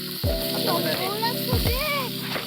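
Chicken frying in oil on hot roof tiles outdoors, a steady loud sizzle with bursts of stirring and scraping, while people talk nearby.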